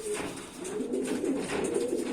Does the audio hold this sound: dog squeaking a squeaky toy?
no